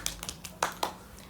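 A few sharp, scattered hand claps, quiet and brief, in a short burst of applause from a person or two at home.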